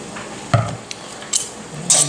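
Spinach being stirred together with grated Parmesan and olive oil in a bowl, a few soft utensil scrapes and clinks spaced apart, close and fairly quiet.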